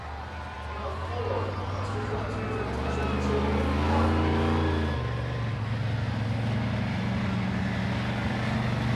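A monster truck at a Lawrenceburg Speedway night event revs hard as it whips into a donut, the engine note rising and swelling mid-clip under an announcer's commentary, with a crowd-filled arena backdrop.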